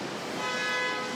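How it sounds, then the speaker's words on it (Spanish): Car horns honk in city traffic with impatient drivers, a sustained dense blare of overlapping horn tones held steadily throughout the brief moment, loud and without speech. "Sinfonía de bocinas en la ciudad."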